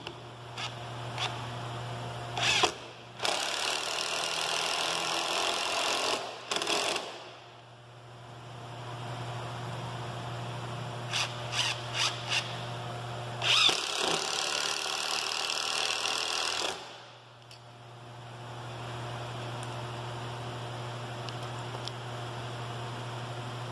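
A cheap impact driver sinks a screw with no pilot hole in several loud, buzzing bursts of hammering rattle, with short pauses between runs and no talk.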